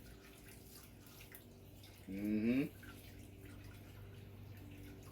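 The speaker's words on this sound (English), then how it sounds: "Go ahead and pour the broth on in there." Broth poured into a baking pan of rice makes a brief half-second liquid splash amid quiet room tone, with a soft murmured voice nearby.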